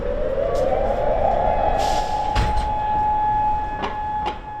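A tornado warning siren in Louisville sounds outdoors as a loud, steady, sustained tone that swells upward and then holds, continuous and far-carrying, with a few faint clicks over it.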